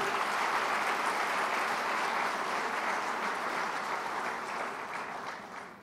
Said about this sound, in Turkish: Kendilerini alkışlıyorum.